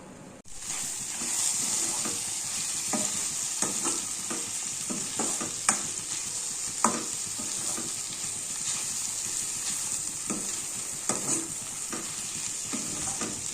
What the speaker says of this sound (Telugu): ఇలా బెండకాయని బాగా ఫ్రై చేసుకొని